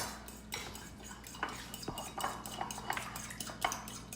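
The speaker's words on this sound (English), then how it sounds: "Mix that up." A utensil clinks and scrapes against a bowl while tamari and lemon juice are mixed, in quick irregular taps and swirls that stay fairly soft and close.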